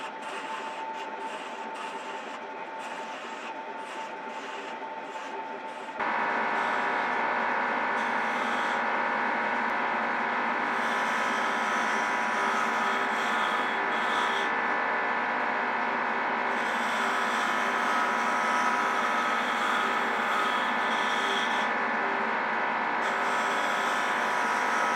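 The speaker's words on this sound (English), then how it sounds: "I'll go ahead and turn the rest of the handle. You can do this with a gouge or a round nose tool." A screwdriver handle turning on a wood lathe with a gouge gives a steady, loud motor drone with continuous tonal cutting noise; it is quieter for the first six seconds, then swells abruptly and holds at full strength with no voices.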